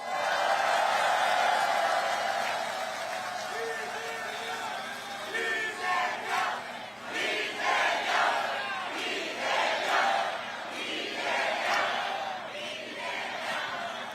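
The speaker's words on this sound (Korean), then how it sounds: "옆에 계신 동지들에게 박수 한번 보내주세요." Crowd at an outdoor political rally in Gyeyang, Incheon, cheering and clapping in a sustained, dense roar with swelling bursts of whoops throughout.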